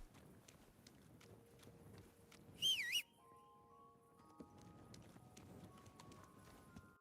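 Horse hooves clip-clop at a steady walking rhythm in Kingdom Come: Deliverance 2, faint and close, with a brief whistling tone and soft background birdsong partway through.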